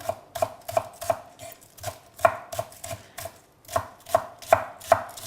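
A knife chops a bunch of parsley on a board for tabbouleh in quick, crisp, evenly spaced strikes, with a few short pauses between bursts, close and clear with no talking.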